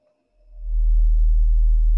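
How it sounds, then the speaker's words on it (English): A very low, pure electronic sine tone generated in Pure Data fades in and then holds steady and loud, smooth and unwavering. "This is a sine wave."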